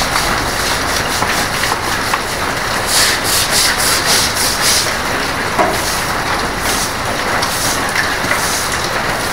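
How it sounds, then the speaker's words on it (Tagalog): Stiff brush scrubbed back and forth over a mossy pavement, a continuous close scratchy rasp with rhythmic strokes, steady and fairly loud throughout. "Gawin natin ay tayo'y mag-brush."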